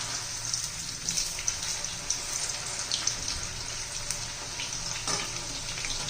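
Slices of raw banana fry in hot oil over a medium flame, giving a steady soft hiss dotted with light crackles and pops, fairly quiet and without talk.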